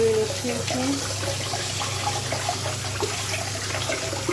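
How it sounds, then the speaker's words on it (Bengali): Leafy greens being washed under a running tap, a steady close rush of flowing water with splashing throughout, carrying on with no pauses. "এখন আবার একটু ভালো করে ধুয়ে নিচ্ছি কারণ শাকের মধ্যে অনেক বালি ছিল"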